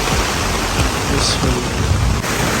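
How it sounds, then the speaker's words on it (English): A thunderstorm pours rain on a tent during an all-night camping storm on Long Island, New York, with dense, loud, steady rainfall and low rumbles of thunder rolling underneath throughout. "a very scary night getting stuck in a thunderstorm"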